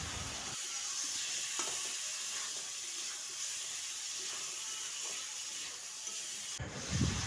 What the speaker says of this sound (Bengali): এবার এ পর্যায়ে দিয়ে দিচ্ছি ভেজে রাখা আলুটা দিয়ে মাটনের সঙ্গে ভালোভাবে মিশিয়ে নিচ্ছি।